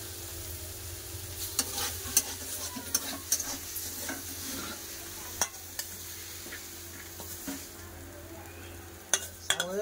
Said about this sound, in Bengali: হ্যাঁ, শাক ভাজা হয়ে গেছে, শাক ভাজা ঢেলে নেবো।